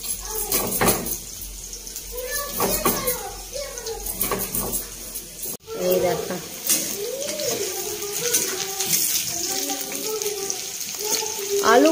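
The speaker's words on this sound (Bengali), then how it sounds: "ফুলকপি ওগুলো সব আমি ধুয়ে নিচ্ছি" Tap water runs steadily over cauliflower being washed in a home kitchen, a hissing splash under a voice talking through much of it.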